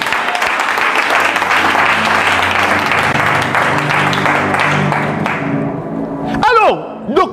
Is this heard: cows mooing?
no